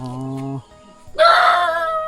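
A rooster crows loudly and close by in a rural hill village, a strong harmonic burst following a quieter lower tone.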